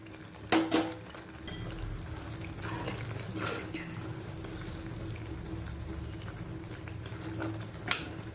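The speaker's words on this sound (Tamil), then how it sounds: "இப்போ இதில் நான் கடைசியாக புளி கரைசல் வந்து ஊற்றி" Tamarind water pours into a simmering pan of spinach thokku with a steady, close, liquid rush and bubbling that runs unbroken after a brief clatter at the start; someone talks over it.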